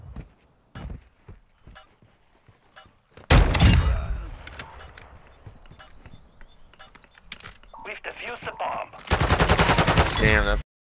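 Video game shotgun firing hipfire slugs, a few sharp blasts early on, then a very loud burst near the middle and a dense, harsh volley at the end, with clatter and other game noise in between.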